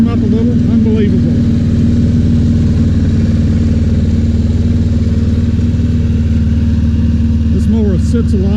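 Snapper lawn mower, model P217018BV, idling steadily after its first cold start of the year, a loud continuous low engine drone that holds even throughout, with a few faint chirps far in the background.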